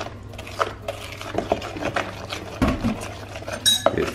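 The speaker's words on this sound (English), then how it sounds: "And we mix." Cupcake batter with an egg mixture and vanilla is stirred in a bowl, giving close, irregular scraping and light clinks of a utensil against the dish, with no talking.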